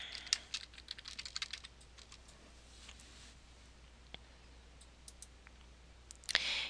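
A search is typed on a computer keyboard in quick, close bursts of crisp key clicks, thinning to occasional taps before a final cluster of keystrokes, with no voices.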